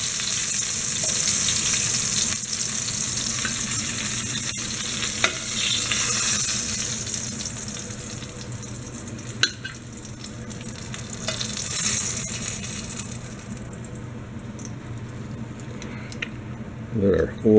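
A second batch of venison shanks browns in hot oil, producing a loud, continuous sizzle with sharp spits and crackles throughout, easing slightly toward the end before a few bumps.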